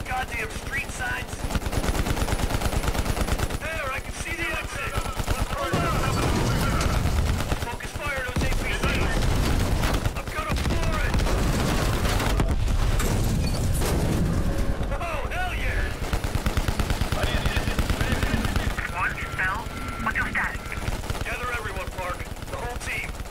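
Sustained automatic gunfire in Call of Duty Black Ops Cold War, dense bursts of rapid shots that run almost continuously and stay loud, with shouted voices over the fire.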